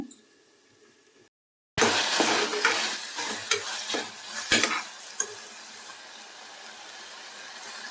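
Turmeric being stirred in a hot, dry pan, with steady scraping and light sizzling close by after a brief pause, plus a few sharper clinks of a utensil against the pan.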